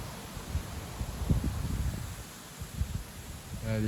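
Wind gusting through autumn trees with leaves nearly gone, an uneven rushing with low buffeting surges and rustle, briefly overlapped by a voice at the end.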